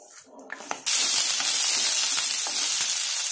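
Fresh coriander leaves sautéing in a pan for chutney, a sudden loud hiss of frying that starts after a few soft clinks and then holds steady and close, with faint stirring scrapes.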